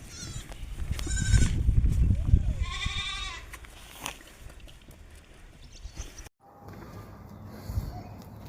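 At a sale of goats and bucks in Karabastau near Shymkent, one goat gives a clear wavering bleat among shuffling, clattering noises and a few fainter calls, with voices in the background.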